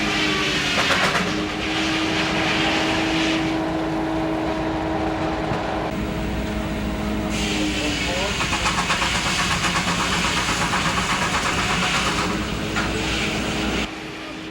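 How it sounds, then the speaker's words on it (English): A simple-expansion steam locomotive working hard exhausts out its stack with a loud, continuous chuffing roar and hiss close by, under a voice talking throughout. "They're simple engines that use the steam once and then exhaust it out the stack."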